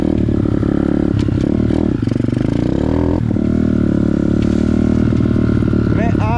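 A small Amazon pit bike engine fitted with an upgraded carburetor drones loud and close, with a steady buzzing, rattly tone and slight rev changes throughout.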